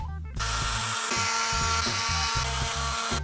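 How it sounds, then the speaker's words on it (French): A small rotary mini drill whines at high pitch, its motor note dipping and rising in short pulses as it engraves hard soapstone. "je vais faire des petits gris-gris dessus à la mini perceuse"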